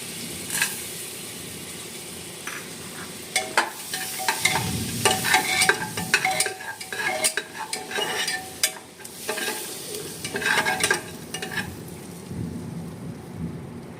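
Whole garam masala spices fry in two spoons of butter in a pressure cooker, with a continuous crackling sizzle that swells into busier bursts of stirring and scraping midway before settling again; no voices.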